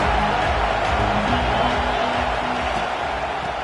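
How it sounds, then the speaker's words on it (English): Stadium crowd at an Oregon at Oklahoma college football game, a steady loud roar filling the whole clip with no clear peaks, like a packed stand ahead of a drive. "This crowd ready to make its presence known."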